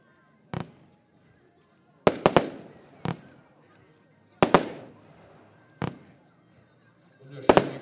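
A Diamond Daredevil firework battery of 21 shots fires in sharp, loud reports, some single and some in quick doubles or triples, each followed by a brief crackling decay, spaced irregularly across several seconds.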